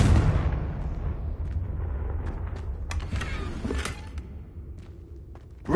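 A Confringo blasting curse goes off in Hogwarts Legacy, a loud deep explosive rumble that rolls on with sharp crackling bursts and debris-like hits, fading somewhat before a final jolt at the end.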